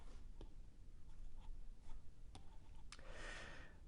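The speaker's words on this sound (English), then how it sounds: "Let's write that again." Pen handwriting while working a maths problem, faint scratchy strokes and light ticks scattered through a quiet stretch, ending in a slightly longer scribble.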